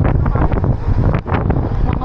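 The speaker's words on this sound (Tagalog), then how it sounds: "Lakas pa ng hangin." Strong wind buffets the microphone of a cyclist riding uphill, a loud continuous rumbling roar with gusty surges and no clear voices over it.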